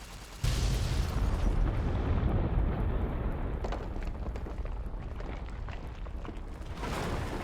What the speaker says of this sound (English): That explosion seems smaller